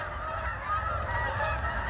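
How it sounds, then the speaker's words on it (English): Flock of geese honking overhead in formation, a dense, continuous chorus of overlapping honks filling the whole stretch at steady loudness. "this is quite a formation of geese"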